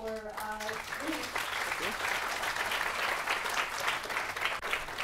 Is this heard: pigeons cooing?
no